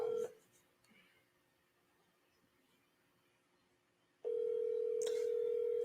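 A phone's steady dial tone hums briefly at the start, fades to quiet background hiss, then returns loud and unbroken for the final seconds.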